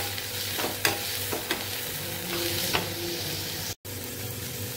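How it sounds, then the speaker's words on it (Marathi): Tomatoes and vegetables sauté in oil in a pan, making a steady close sizzle broken by a few sharp spatula scrapes and a brief silent dropout near the end. "आता टोमॅटो घालत आहे। सर्व भाज्या अशा परतून घ्यायच्या आहे।"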